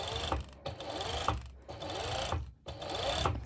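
Sewing machine top stitching fabric for a cover-up dress, its motor whirring steadily in close bursts with brief pauses between runs.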